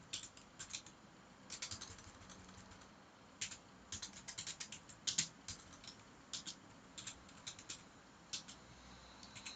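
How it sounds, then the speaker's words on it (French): Keys clatter on a computer keyboard in quick irregular bursts with short pauses, close and fairly quiet, with no one talking. "lorsque je tape maintenant"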